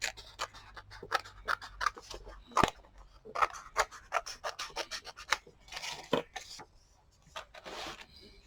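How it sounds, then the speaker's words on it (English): Scissors snipping paper off the bottom edge of an art journal page, a quick series of close, crisp cuts and rustles with short pauses between strokes. "Now I'm just going to cut this off the bottom."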